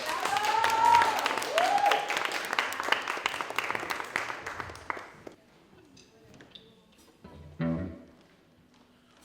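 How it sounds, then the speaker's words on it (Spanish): An audience at a live music taping in a geology museum applauds a band, a few seconds of steady clapping that thins out into scattered claps and small knocks. "un aplauso por favor para ellos"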